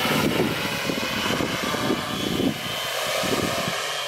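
A drone hovers and flies with a search and rescue payload slung underneath, its propellers giving a steady droning buzz that swells and dips slightly as it moves, alone without voices, in a light crosswind.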